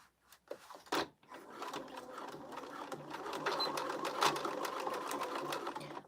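Sewing machine running a regular stitch on a crossbody bag, a close, continuous rapid mechanical whir after a few short knocks and a brief pause at the start.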